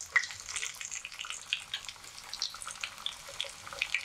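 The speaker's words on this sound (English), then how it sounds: "we're just par frying this" Flour-coated keto chicken pieces par-fry skin side down in hot oil previously used for fish, giving a quiet, steady crackling sizzle with scattered sharp pops and no talking.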